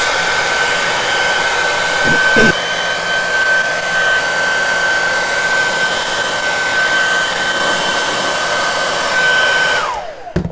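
A loud, steady whine of a hair dryer blowing continuously up close, drying glue on a table tennis bat, with a brief bump midway, then switching off at the end.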